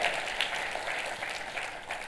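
A church congregation claps together during a sermon, a fairly quiet, continuous patter of many hands that stays even throughout and has no speech over it.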